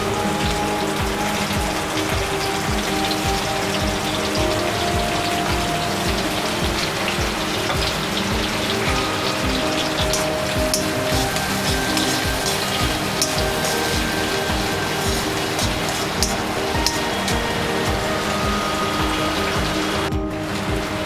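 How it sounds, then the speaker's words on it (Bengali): Cashews and raisins, soaked beforehand, stirred as they fry in hot ghee for a payesh; a steady dense sizzle and crackle runs throughout, with faint clinks of the spoon against the pan. "এবারে এই ঘিয়ে আমি একটু কাজু কিশমিশটা নাড়াচাড়া করে নেব।"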